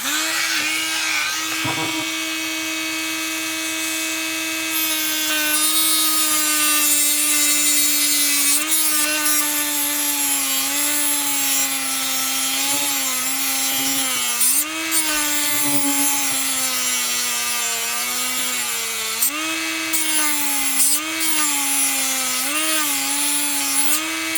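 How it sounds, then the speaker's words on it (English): Cutoff grinding wheel angling the top of a motor brush for an N scale Micro-Trains SW1500 model locomotive, a steady high-pitched whine with small dips in pitch as the piece is pressed against the wheel, close and continuous. "we'll do that with our grinding wheel, our cutoff wheel"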